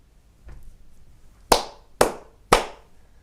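Three sharp hand claps, evenly spaced about half a second apart, loud and close in an otherwise quiet room with a faint soft sound just before them.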